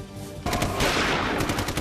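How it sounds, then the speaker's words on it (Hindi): Militants open fire in a sudden burst of rapid automatic gunfire, loud and dense, continuous crackling shots that start abruptly and roll on without pause, no voices. "उग्रवादियों ने गोलियां बरसानी शुरू कर दी।"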